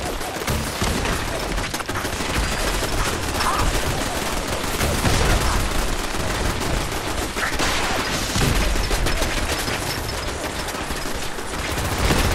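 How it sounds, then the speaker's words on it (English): A Gatling laser in Fallout 4 fires continuously in a fight against the Brotherhood, a dense, loud stream of rapid shots that runs unbroken for over twelve seconds with only slight swells in intensity. "My Gatling laser going."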